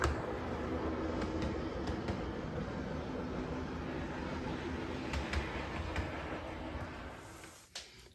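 A model train runs along its track with a faint, steady mechanical whir and light clicking from the rails, fading near the end.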